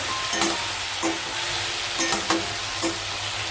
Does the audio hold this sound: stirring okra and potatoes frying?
yes